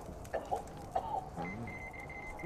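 In Metro Exodus, a rooster gives a few short, sharp clucks at uneven intervals over a quiet game ambience with a thin high tone, and no one talks.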